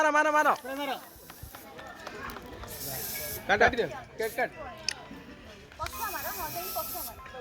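Party spray is fired at a birthday celebration in several hissing bursts, some short and some lasting about a second, with excited voices talking and shouting between and over them.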